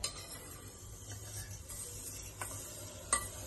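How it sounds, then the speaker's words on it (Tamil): Semiya (vermicelli) being stirred into heated milk in a pan for semiya payasam, with cashews, raisins and cardamom already added; soft, quiet scraping and swishing with a few faint clinks against the vessel, no talking. "சுடு வச்ச பால்ல கொட்டியாச்சுங்க. கலக்கிட்டு இருக்கேன்."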